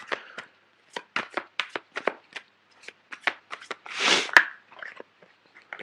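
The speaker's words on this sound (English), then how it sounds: "I'm going to pull out a few cards for the Seven of Swords" Tarot cards are shuffled and drawn by hand: a series of short, crisp, close-up snaps and flicks in an uneven rhythm, with one longer riffling burst near the end.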